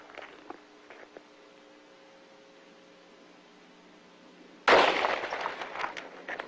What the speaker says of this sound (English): Oh, the gun works nicely.